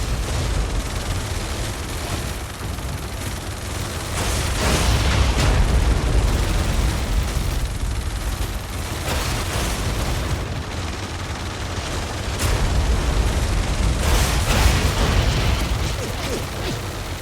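A cargo ship explodes in an Xbox video game, with dense rumbling blasts and layered booms that swell and roll on without a break and no talk over them.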